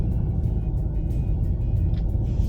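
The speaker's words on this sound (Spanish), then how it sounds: "por eso tenemos más ruido del motor" A hybrid SUV's engine, a 2025 Hyundai Santa Fe HEV 4x4 charging its battery, drones steadily from inside the cabin, a low continuous hum with road noise, no voices, constant in level.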